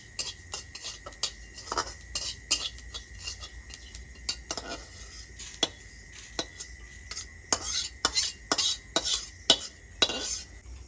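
Sesame seeds dry-roasting in a pan, stirred with a utensil, for a Bengali sesame pitha: irregular, close-up scraping and clinking strokes against the pan, some clustered in quick bursts, with quiet gaps between and no talking.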